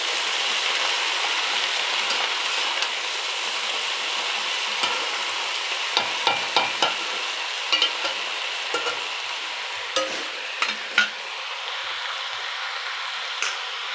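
Water spinach (kalmi saag) frying in a pan, a steady loud sizzle and hiss with occasional scraping stirs toward the middle and end.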